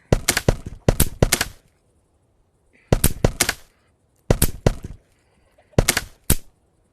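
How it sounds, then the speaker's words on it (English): A metal axe head is hammered at a forge in the VR game A Township Tale, with quick bursts of three to four sharp clanging strikes separated by brief pauses, loud and close. "we'll just start hitting it all around"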